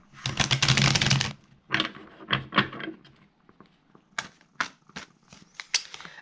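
Tarot cards shuffled by hand, starting with a dense riffling burst followed by a series of short irregular card taps and slides, close and fairly quiet, with no talking.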